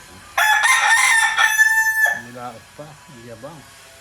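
A young gamecock stag crows once loudly and close, a strained, slightly rough call lasting under two seconds, followed by a few softer clucks.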